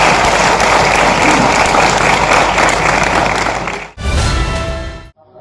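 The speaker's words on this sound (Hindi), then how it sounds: "तालियां बजा के बता दीजिए" An audience at a live ghazal performance breaks into dense, sustained applause that fills the space, then fades out sharply before a brief final burst of clapping dies away.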